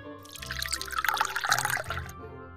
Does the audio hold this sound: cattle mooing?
no